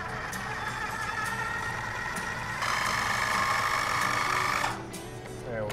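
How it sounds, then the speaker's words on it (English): A blender purees an ice cream base with a continuous motor whir that grows louder midway, then drops back and fades out near the end. "we'll puree it to a nice, smooth texture"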